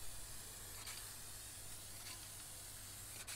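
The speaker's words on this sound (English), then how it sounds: "So I want an even spray of both as I spray it on." Montana Gold clear coat sprays from an aerosol can in a steady, continuous hiss that stays close and even throughout, with no talking.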